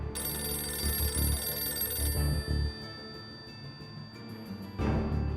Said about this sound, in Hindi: अरे फोनमा बज रहा है भाई,